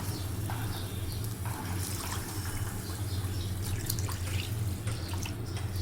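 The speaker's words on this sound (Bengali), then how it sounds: "এখন আমি পানি দিয়ে দিচ্ছি" Water pours steadily into a pot of seasoned chicken for boiling, a continuous close splashing trickle lasting throughout with no voices.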